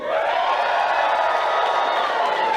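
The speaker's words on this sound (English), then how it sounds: "Can you cheer loud?" A crowd at a wrestling event cheers and whoops loudly in a steady, sustained roar that fills the whole moment.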